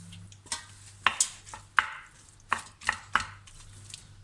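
A knife chops mozzarella cheese sharply on a cutting board, about eight uneven strokes with short pauses between them, close up, with no voices.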